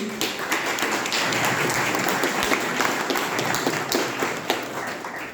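A roomful of people claps for Daria at a student council election event, dense steady applause with scattered sharp individual claps and occasional thumps, fairly close and unbroken.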